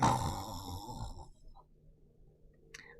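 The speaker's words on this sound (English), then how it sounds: "She snored like a grizzly bear." A woman's loud, rasping snore fills an audiobook passage, one long rattling breath at close range that fades out, followed by quiet with a faint wheeze near the end.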